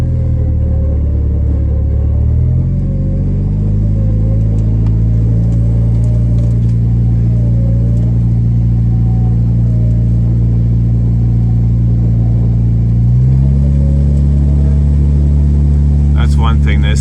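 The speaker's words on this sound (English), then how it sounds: "This Jeep needs the high RPMs to run this winch." A Jeep engine held at high RPM to power a winch, a loud, steady, close rumbling drone that steps up in pitch early on and again near the end, with faint mechanical clatter over it.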